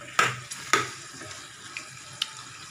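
Potatoes and peas cook in oil over a low flame with a faint sizzle, broken by a few sharp clinks and scrapes of a spoon stirring the pan close by.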